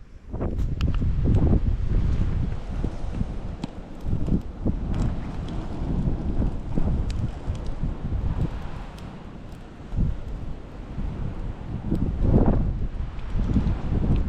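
Strong wind blowing across a remote outdoor Australian camp, buffeting the microphone with a constant loud rumble and gusty swells throughout.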